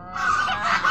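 Domestic geese give a single short, nasal honk, close and fairly loud, lasting under a second.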